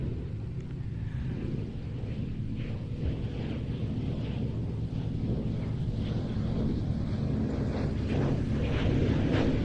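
A 1939 vintage military aircraft carrying a machine gun and light bomb carriers flies past at the Old Buckenham airshow. Its deep, rumbling engine roar swells steadily louder as it approaches, mixed with outdoor wind buffeting and no voices.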